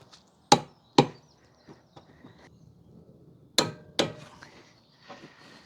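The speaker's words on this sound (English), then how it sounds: "these need to be torqued to 55 Newton meters" A torque wrench tightens strut bolts on a Mini Cooper R56, two pairs of sharp metallic clicks in close succession, separated by quieter handling noises.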